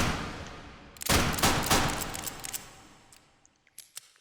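Nagant 1895 revolver fired in H3VR, several sharp close reports in quick succession, each with a decaying tail, followed by a few softer mechanical clicks.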